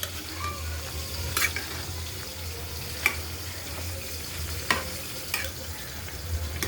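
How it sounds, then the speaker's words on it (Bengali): Winter vegetables with onion frying in a pan, stirred now and then: a low, steady sizzle beneath occasional soft scraping clinks, close and fairly quiet. "তো একটু নাড়াচাড়া দিয়ে মিশিয়ে দিই।"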